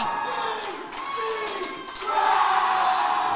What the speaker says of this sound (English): Listen to that crowd. The tag team champions have fired up the faithful.